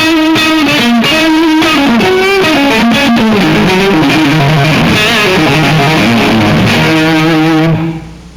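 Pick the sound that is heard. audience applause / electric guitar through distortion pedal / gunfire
electric guitar through distortion pedal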